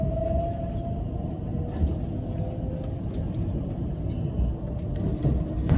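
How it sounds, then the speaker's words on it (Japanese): Low rumbling interior of a JR Takarazuka Line local train to Osaka pulling out of Amagasaki Station, a steady continuous hum with a faint rising motor whine, no talk. "8時57分尼崎駅を普通大阪行き発車していきます。"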